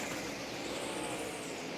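NASCAR Busch Series race cars at full throttle around Dover's oval, a dense continuous roar of engines heard from a distance, steady and unbroken with no voices.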